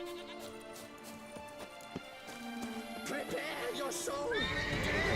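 A horse neighs in Witcher 3: Blood and Wine, a rising, wavering whinny near the end over game ambience and a voice talking.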